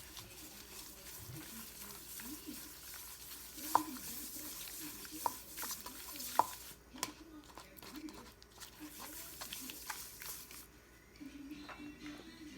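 A chicken roll mixture with potato starch is stirred by hand, giving soft, quiet scraping and squelching with a few sharp clicks of a utensil against the bowl while someone talks throughout.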